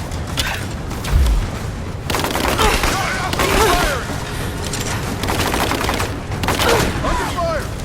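Gunfire in Rise of the Tomb Raider, with rapid bursts and scattered shots crackling across a loud battle alongside heavy thuds, while voices shout beneath the shooting.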